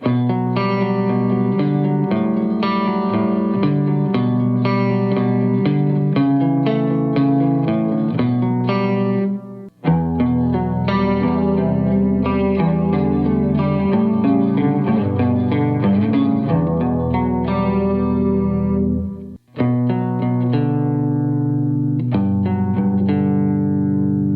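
Clean electric guitar arpeggios, three separate passages split by brief silences, each a steady stream of picked notes ringing into one another, loud and alone with light effects.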